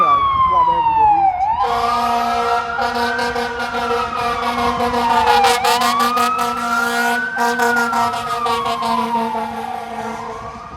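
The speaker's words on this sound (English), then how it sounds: "I think that is the fourth fire truck I've seen in 10-20 minutes." A fire truck on a Miami street, its siren wailing up and down close by with a loud horn-like blare underneath and rapid air-horn bursts in the middle, all loud and near throughout.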